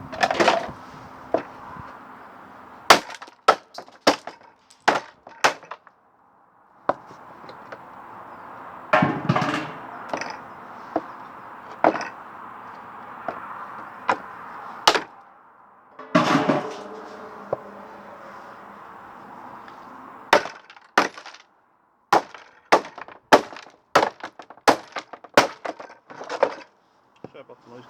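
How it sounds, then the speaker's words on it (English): Plastic casing being smashed off the motor of a scrapped Indesit tumble dryer, sharp repeated cracks and bangs in uneven bursts, close and loud, with a steady background hum between strikes. "I'm just going to smash all this plastic off"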